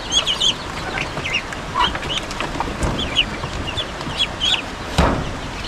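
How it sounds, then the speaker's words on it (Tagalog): Young chicks on a farm that also keeps ducks and breeder hens cheep in repeated high, thin peeps, scattered and overlapping at close range over a noisy outdoor background. "Yung mga sisiw natin."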